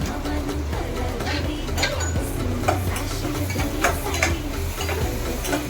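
Spice paste and tomato sizzling in a pan for a Konkan banana flower bhaji, with a spoon scraping and stirring in an uneven, repeated rhythm over a continuous low fry, close by and moderately quiet.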